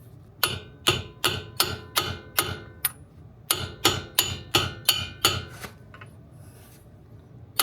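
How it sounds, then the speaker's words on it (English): Sharp metallic hammer taps on a brake part during a Brembo big brake kit install on an Acura RSX Type S strike at a steady rhythm, about a dozen close blows with a brief pause partway, fading out near the end. "With a hammer, just like that."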